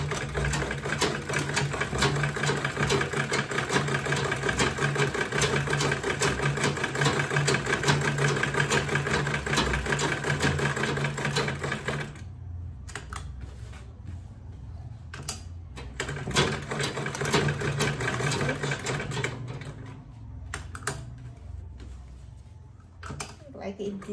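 A sewing machine runs steadily, stitching along a marked line on a quilted tote bag, with a continuous motor whir for about half the time, then short bursts of stitching between pauses, while a person talks.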